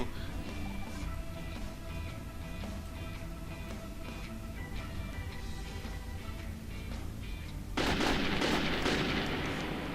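Gunfire from the video game Metro 2033: rapid shots crackle steadily throughout, then a louder, denser burst of fire erupts near the end and fills the sound.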